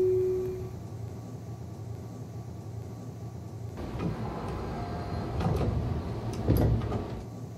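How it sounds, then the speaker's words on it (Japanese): Train doors sliding shut in the BVE5 train simulator on a Tobu Noda Line 60000 series service: a quiet hum, then a sudden mechanical rumble and clattering thuds as the doors close, with a final heavier knock. "ドアが閉まります。"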